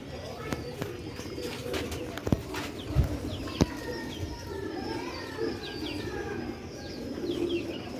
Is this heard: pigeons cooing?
yes